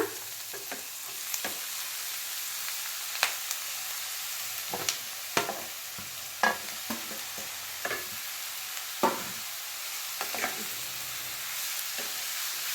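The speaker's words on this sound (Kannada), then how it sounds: "ಈಗ ಬೀಟ್ರೂಟ್ನ ಹಾಕ್ಬಿಡೋಣ" Grated beetroot is tipped into frying onions and stirred, a continuous sizzle broken by a dozen or so sharp scraping clacks of a spatula against the pan at uneven intervals, close and alone.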